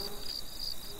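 Insects buzz in the horror game Lakeview Cabin, a faint, steady, high-pitched drone that wavers slightly, with no voices.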